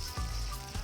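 Food sautéing in a hot pan sizzles steadily, with brief louder bursts as it is moved or stirred.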